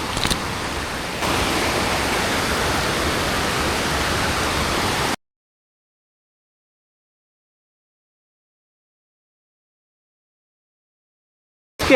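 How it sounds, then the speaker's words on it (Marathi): A flowing stream in the Sahyadri hills rushes as a dense, steady broadband wash for about five seconds, fairly loud and close, then cuts off abruptly into silence. "इथून ओढा क्रॉसिंग लागतं"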